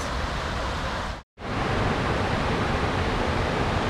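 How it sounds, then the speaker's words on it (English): Steady broadband rushing of a distant waterfall or rapids at Burgess Falls State Park in Sparta, Tennessee, a continuous loud roar with one very brief dropout. "I can hear the other waterfall, unless that's the rapids."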